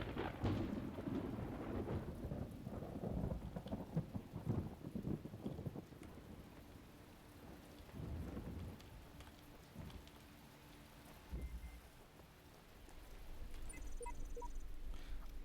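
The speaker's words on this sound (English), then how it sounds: "now it's raining again" Steady rain pattering on surfaces with deep rolling thunder swelling and fading in the distance, a continuous storm ambience in the video game The Talos Principle, with no voices.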